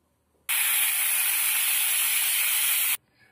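A loud, steady hiss of steam venting from a pressure cooker whistle for a couple of seconds while cooking brown rice pulao, starting and stopping abruptly, close by.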